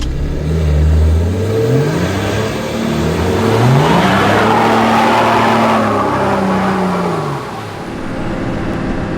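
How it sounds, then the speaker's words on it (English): An off-road car's engine revs hard as it winches out of a bog, the pitch rising and falling in repeated loud sweeps as the wheels spin, close and continuous with no talking. "Winching in, idle the car up a bit, just sort of spinning the wheels a little bit, keep the car moving too"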